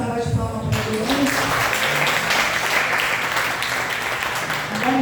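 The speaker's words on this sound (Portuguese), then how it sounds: "Vamos dar uma salva de palmas para Deus." A church congregation bursts into sustained applause, clapping steadily and loudly for several seconds, with a voice briefly heard at the start.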